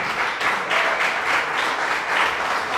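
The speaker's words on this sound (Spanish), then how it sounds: "den un aplauso a Dios, porque Él está aquí en esta mañana" A church congregation applauds to God during a morning service, with steady, full clapping that swells in slight waves throughout.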